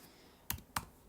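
Two crisp keyboard clicks typed on a computer keyboard while entering values into an Excel spreadsheet, each a short sharp tap spaced about a quarter second apart over a faint room hiss.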